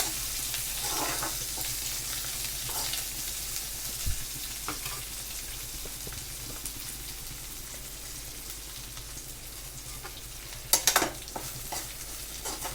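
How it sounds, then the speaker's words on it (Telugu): Coriander, tamarind and curry leaves fry in oil for a tomato-coriander pickle, a soft continuous sizzle under a low hum, broken by a few scrapes of stirring and a brief louder clatter near the end. "కొత్తిమీర చింతపండు కరివేపాకు కూడా వేయించుకోవాలి"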